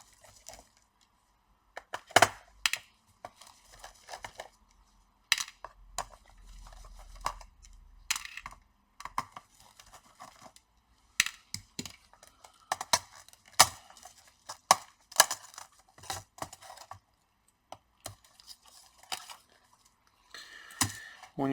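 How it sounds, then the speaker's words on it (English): A Toshiba Satellite L755 laptop keyboard being pried out, with sharp plastic clicks and snaps in irregular bursts separated by quiet gaps, close up and with no talking. "So let's remove the keyboard."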